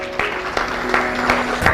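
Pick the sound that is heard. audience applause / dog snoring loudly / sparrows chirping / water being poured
audience applause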